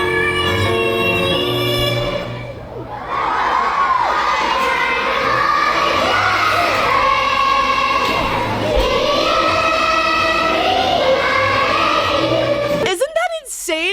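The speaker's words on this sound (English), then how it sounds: "Listen to how good this crowd is." A huge concert crowd singing along in unison, loud, dense and sustained, with the melody carried by thousands of voices and cheering mixed in, cutting off abruptly near the end.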